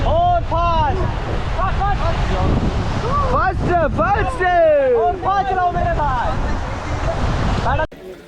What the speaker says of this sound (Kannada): ಗಂಗಾ ನದಿ ಋಷಿಕೇಶಲ್ಲಿ ರಿವರ್ ರಾಫ್ಟಿಂಗ್ ಮಾಡಿದ್ವಿ